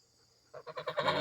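A goose gives a short run of quick, nasal honks, rising in loudness over about a second after brief quiet.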